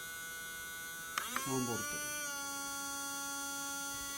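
A small brushed Mini-Z RC car motor spins on an XSPEED motor checker during break-in, giving a steady buzzing whine with layered tonal hum that runs continuously. Someone speaks briefly over it partway through.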